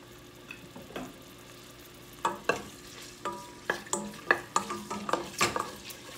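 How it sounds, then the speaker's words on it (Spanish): Diced ham frying in a pot, with a soft sizzle beneath a series of close, regular scraping knocks from a spoon stirring against the pot, picking up in rhythm after a quieter start. "vamos ahora a sofreír unos cantitos de jamones"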